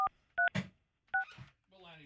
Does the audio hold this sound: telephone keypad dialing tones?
yes